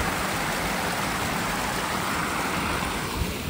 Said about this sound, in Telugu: మా ఊరి వాటర్ ఫాల్స్